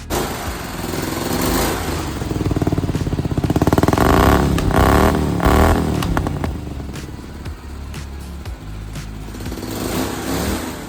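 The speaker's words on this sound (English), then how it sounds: "20 horsepower Tecumseh V-twin with dual 30mm slide carbs on it, full custom 2-into-1 header that goes all the way out the back with a special muffler." A 20 horsepower Tecumseh V-twin with dual 30mm slide carburetors and a custom 2-into-1 header and muffler runs close by. It makes a loud, steady, throaty rumble that swells slightly in the middle, with no talking.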